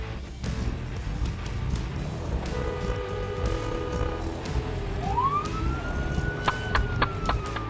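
A Los Angeles police SUV siren winds up partway through, rising into a loud wail and then breaking into sharp repeated yelps over road and traffic noise.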